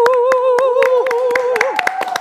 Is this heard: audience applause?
yes